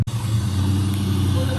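A Ford SVT Cobra with a misfiring, backfire-prone engine idles while warming up, a loud, close, steady low engine drone after a brief sharp start.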